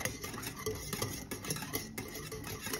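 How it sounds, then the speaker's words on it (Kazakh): Custard cream thickening as it boils in a pot on a medium-low stove, stirred with a utensil in a rhythm of soft scraping and tapping against the pan, close and fairly quiet, with no voices. "Консистенциясы видеодағыдай болғанға дейін жақсылап араластырып қайнатып аламыз"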